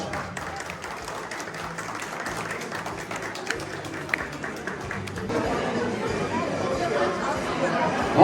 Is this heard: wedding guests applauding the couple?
yes